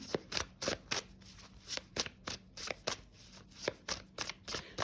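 A tarot deck, The Curious Creature, being shuffled by hand: a quick run of about fifteen crisp, papery riffles and slaps in an uneven rhythm, close and clear with no voices.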